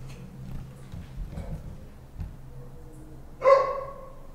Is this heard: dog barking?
yes